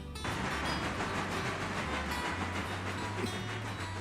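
Trains rolling on rails in the railroad simulation game Railroader, a steady loud rumble of wheels and engine with low droning tones, continuous and close throughout.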